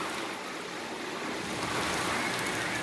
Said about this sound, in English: Nice storm going on.